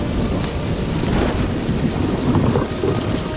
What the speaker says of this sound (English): Flutterby, if we release some hot air, we can drop below the storm